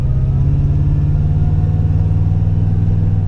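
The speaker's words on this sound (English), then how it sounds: "you're going to hear that Supercharger whine" A supercharged Toyota Tundra pulls in first gear, its engine droning loud and steady with a sustained tonal whine over a low rumble, heard close from inside the cab.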